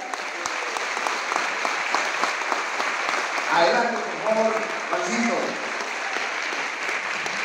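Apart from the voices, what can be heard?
audience applause welcoming a guest on stage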